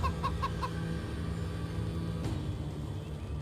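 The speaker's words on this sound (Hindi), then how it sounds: "ये है ना असील मुर्गा, नस्ली।" An Aseel rooster gives a quick run of four short clucks at the start, over a constant low background rumble, then one faint click follows with no further calls.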